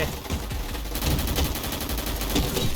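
Rapid bursts of gunfire from a Roblox shooting game, loud and dense, with shots rattling in quick, fairly regular succession through most of the stretch and no clear voice over them.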